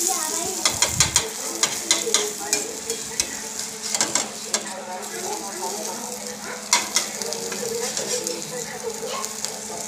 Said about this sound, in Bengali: একদম লো ফ্লেমে আমি এটাকে ভাজছি